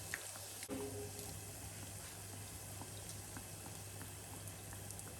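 Hot oil sizzles and bubbles steadily in a fryer as jam donuts deep fry, a soft continuous crackle with a faint hum beneath and one brief clink near the start.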